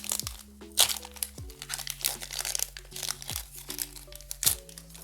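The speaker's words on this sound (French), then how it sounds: "On est parti pour ouvrir les 9 boosters." Crinkly plastic foil wrapper of a Pokémon 151 trading card booster pack being torn open and crumpled close up, a busy run of sharp crackles and rips with brief pauses between handfuls.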